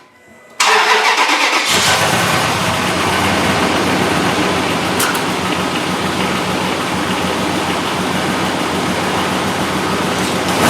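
A 2003 Dodge Durango's 4.7-liter V8 cranks and catches after exhaust manifold and gasket repair, then settles into a loud, steady, close-up idle with a rough, slightly noisy exhaust note.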